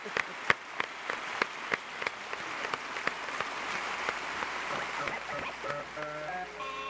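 An audience applauds a cumbia and funk band at a television music show, a dense wash of clapping with a few sharp close claps standing out, and music tones creeping in near the end.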